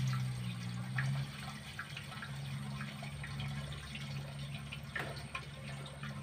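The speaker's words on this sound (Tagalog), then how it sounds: "Lalagyan natin ng krudo" Diesel fuel poured through a funnel into the small tank of a diesel stove: a faint, continuous trickling pour over a low steady hum, no talk.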